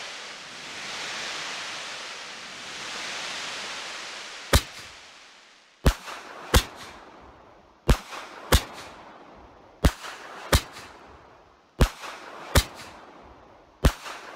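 Fireworks going off in the video game Fireworks Mania: a soft rushing hiss, then about ten sharp, loud cracking bangs in an uneven rhythm, each with a short fading tail, no voices.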